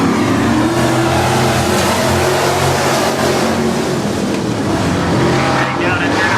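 Race cars circling the track at Crystal Motor Speedway in Michigan during a last-chance feature, engines droning and revving loudly and continuously over a dense roar, with an announcer's voice mixed in.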